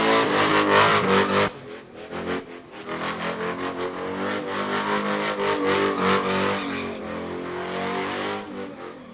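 Race cars roar at full throttle in a dirt-track style feature race, the Ward and Son 100, engines loud and close with a steady revving drone and cars sweeping past, a dip in level after the first moments.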